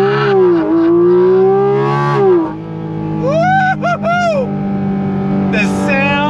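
A 2024 Porsche Cayman GT4 RS with a flat-six engine revs up on launch control, a loud rising wail that drops and climbs again in sharp up-and-down sweeps as the car pulls away hard.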